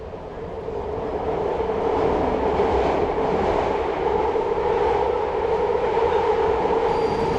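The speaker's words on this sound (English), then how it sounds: "This is a red line train." A San Francisco BART Red Line subway train rumbles along steadily at close range, a dense continuous roar of wheels and motor with a faint high whine near the end.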